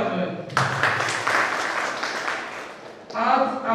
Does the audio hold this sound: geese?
no